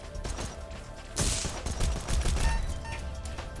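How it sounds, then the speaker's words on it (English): Rapid bursts of gunfire in the video game Echo Point Nova, a dense fusillade of sharp shots over a busy mechanical background, loud and close. "Every gunshot repels me into the air."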